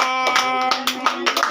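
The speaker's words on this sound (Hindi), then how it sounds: "ताली को बजाओ" Several loose hand claps at a family 50th wedding anniversary celebration at home, uneven in rhythm over a sustained tone, with people nearby.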